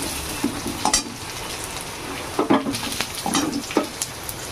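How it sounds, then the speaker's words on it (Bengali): Chopped onion sizzles steadily as it fries in a pan with a pinch of black cumin, under a continuous hiss with occasional stirring scrapes and utensil clinks. "পেঁয়াজ কুচি, পেঁয়াজটাকে একটু ভেজে নেব।"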